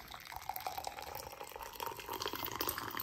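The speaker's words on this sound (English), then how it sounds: "And then we got some tea, some Moroccan tea. Let me pour that for y'all." Moroccan tea poured from a pot into a glass, a steady close liquid stream running for about three seconds with no voices.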